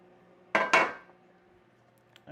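Metal baking pans are shoved aside on a kitchen counter during bread baking, giving two sharp, close clanks in quick succession that fade into near silence, followed by a small knock at the end.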